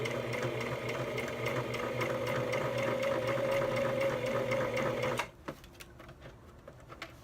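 Sewing machine stitching denim, a stitch-in-the-ditch seam beside a zipper, running steadily and loud with a fast even hum for about five seconds before it stops abruptly, leaving only faint clicks.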